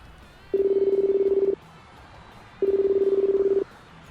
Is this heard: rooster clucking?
no